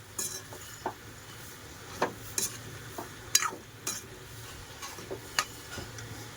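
Stirring potato and drumstick curry in a pan brings soft scrapes and several sharp clinks of a utensil against the pan, spaced irregularly over quiet background, with no talking.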